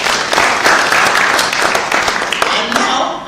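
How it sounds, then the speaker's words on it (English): Audience applause at a nutrition event in Africa, a dense steady wash of many hands clapping for about three seconds, fairly loud and continuous, with some voices mixed in. "Let's give a round of applause for Christine."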